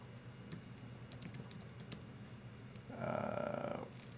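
Typing on a computer keyboard during video editing gives a quick run of sharp, close key clicks, irregular taps spread over several seconds, followed by a brief steady electronic tone near the end.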